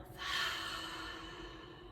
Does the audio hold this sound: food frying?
no